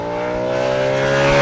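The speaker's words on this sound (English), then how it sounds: "it sounds like a full race engine" Audi RS5 B8.5 from 2015 with a 4.2L V8 and resonator-delete exhaust, its engine giving a steady, droning roar that swells slightly louder over a brief moment.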